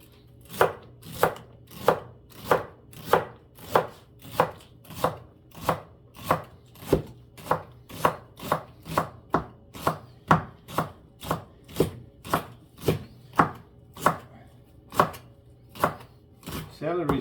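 A knife chops celery sticks on a cutting board with a steady run of about thirty sharp, evenly spaced knocks, close and clear with no talking.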